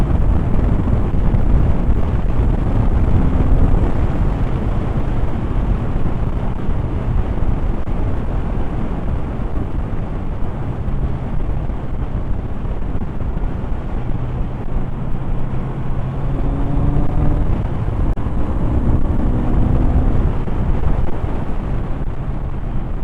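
Kawasaki Z900RS motorcycle ridden on the road and accelerating hard past traffic, with clutchless upshifts; a steady loud engine drone mixed with heavy wind rush at the microphone, rising tones marking gear changes.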